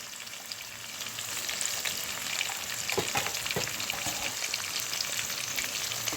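Thinly sliced large onion sizzling in oil in a pan for red sauce pasta, a steady loud frying hiss with occasional stirring scrapes and pops, no voices.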